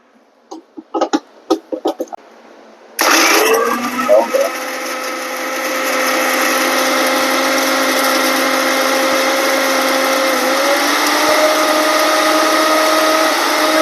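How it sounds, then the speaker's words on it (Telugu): A mixer grinder roars to life after a few short taps and knocks, then grinds horse gram steadily and loudly for a long stretch. "చివరగా మనము మిక్సీ పట్టుకొని దించేసుకుంటే మనకు కావాల్సిన ఉలవల కారపొడి రెడీ అవుతుంది"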